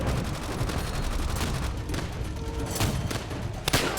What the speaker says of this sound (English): So here I show off how bolt action rifles like the Semper are used